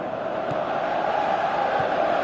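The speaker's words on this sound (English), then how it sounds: "Crowd appreciates good football all round there." Stadium crowd in the football video game PES 2018 giving a steady, continuous wash of applause and murmuring, fairly loud and sustained throughout with no distinct voices standing out.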